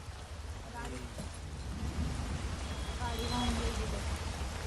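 Steady hiss of heavy rain falling on surfaces in Pune, with faint voices and distant tones in the background.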